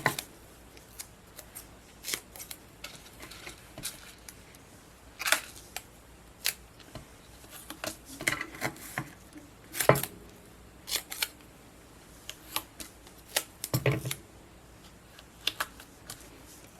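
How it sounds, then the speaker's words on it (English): Scissors snipping strips from a large roll of double-sided foam tape at a card-making desk, a series of short, crisp cuts and handling rustles at close range, with no talking. "So I'm just going to cut off a few strips."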